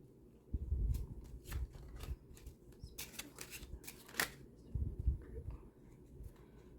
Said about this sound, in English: we are going to be using the When My Soul Whispered Oracle deck, and I'm going to be drawing a few cards for you here